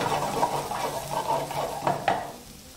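Chopped mushrooms frying in a pan, a soft continuous sizzle with occasional light scrapes of stirring and a couple of sharper clinks, fairly quiet and close.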